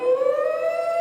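A fire engine siren wails steadily as it passes, a loud sustained tone that rises slightly in pitch with no talking over it.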